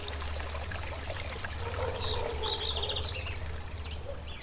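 Water of the Córrego Olaria stream trickles and pours in a steady, moderately quiet flow, with a bird chirping briefly in the middle and a low hum beneath.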